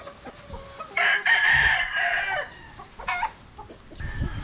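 A gamefowl rooster crows loudly and at close range, then lets out a few shorter clucks and calls with short pauses between them, heard alone with no talking over it.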